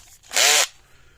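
A power drill whirs in one short, loud burst of about a third of a second while boring a hole for a bolt during a fence charger repair, with quiet before and after.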